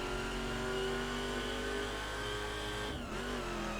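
Ferrari engine revving in the racing game The Crew, a fairly quiet, steady mid-pitched drone with a brief dip toward the end.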